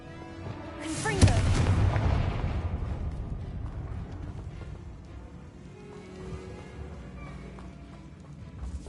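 Confringo spell explosion in the Hogwarts Legacy video game: a sudden booming blast with a crackling burst lands near the start, then a rumbling tail slowly fades under continuing game ambience.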